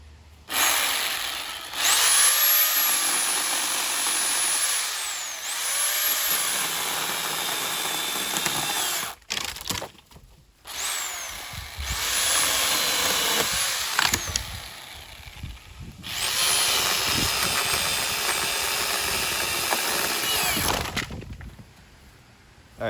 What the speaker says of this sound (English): I'm gonna have somebody else film while I cut a branch,